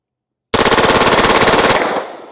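A Sig MPX K submachine gun fires one loud, rapid burst of about a second and a half from close range, with the report ringing out briefly afterward.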